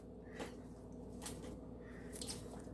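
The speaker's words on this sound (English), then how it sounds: "The little gas bubbles." Buttered white sandwich bread dough is pressed down in the pan, giving a few faint, soft squishes and wet pops as trapped gas bubbles burst, spaced irregularly over a quiet background.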